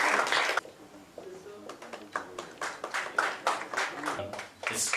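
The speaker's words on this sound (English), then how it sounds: "Let's have a huge round of applause" Applause at a book launch in Mumbai, a crowd clapping in irregular bursts of short, sharp claps that fade and swell again, fairly close, ending in a louder rush of clapping.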